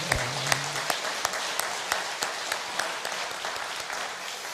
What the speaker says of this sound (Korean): 하나님께 영광의 박수 한번 드릴까요?